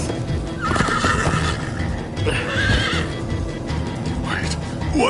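A horse in Minecraft Story Mode whinnies over galloping hooves in a loud, busy game scene, with a short neigh near the end and voices mixed into the dense background.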